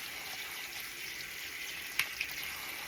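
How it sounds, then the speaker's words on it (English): Cold water runs steadily from a tap to rinse a cleaning brush and a length of tubing, with a constant close hiss of flow and a couple of small splashes near the end. "add a little bit of cold water here as we go to rinse things out."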